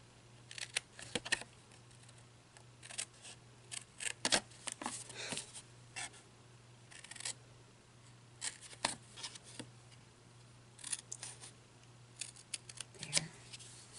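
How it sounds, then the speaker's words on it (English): Scissors snip through a paper gift box along its score lines, giving a series of quiet, crisp clicks and cuts in uneven bursts against a faint hum. "We're going to cut along these two score lines here."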